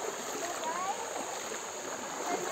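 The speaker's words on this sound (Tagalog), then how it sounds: "Oh, ang lakas pala ng agos." A strong current in a brown river rushes steadily with a broad, continuous watery hiss and faint splashing, heard close during a river crossing on foot.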